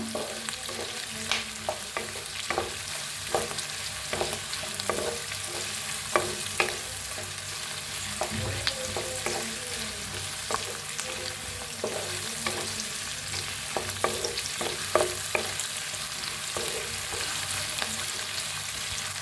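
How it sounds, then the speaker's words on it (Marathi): Onion and chili roast in a pan for a chicken dish, giving a steady sizzle with repeated clinks and scrapes of a spoon stirring at close range. No one speaks. "आता छान भाजलाय बघा कांदा आणि मिरची"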